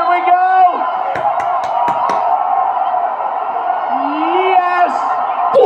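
Dense crowd of eclipse watchers cheering and whooping as totality arrives, loud and continuous, with rising shouts and sharp claps over a steady roar of many voices.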